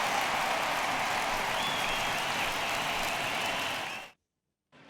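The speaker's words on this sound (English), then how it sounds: "he receives a nice ovation from this home crowd" A home crowd in the baseball video game MLB The Show 19 gives a sustained ovation, a dense wash of applause and cheering that holds steady for about four seconds before cutting off abruptly to silence.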